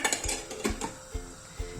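A metal spoon taps and scrapes against a cooking pot as spoonfuls of flour tarhana go in, a few light clinks spaced irregularly, close and fairly quiet.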